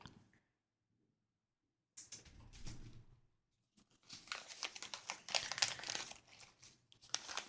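Crinkly T-shirt fabric rustling and crinkling close up, starting in short bursts after a silent stretch and growing into dense, continuous crackly scrunching with no voice over it.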